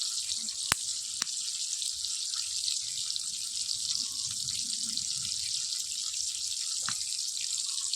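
Water is added to red chili powder in a home kitchen while cooking aloo fulkopi: a steady, hissing pour, near and even throughout, with a couple of sharp clicks early on.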